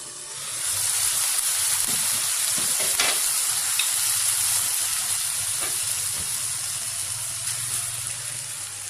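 Minced beef sizzles and fries in a pan for a kachori filling, giving a steady, loud hiss with occasional stirring scrapes and bubbling, close up and without talk.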